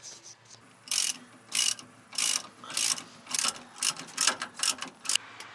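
Ratchet wrench tightening shackle nuts on a truck's rear suspension during an Old Man Emu lift install on a Toyota Tundra: about nine crisp clicking bursts in an uneven rhythm, close and fairly loud, with no talk.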